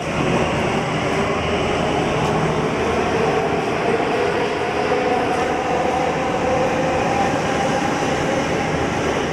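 Steady rumbling roar inside a moving Delhi Metro train, continuous wheel and motor noise with no voices, loud and close throughout.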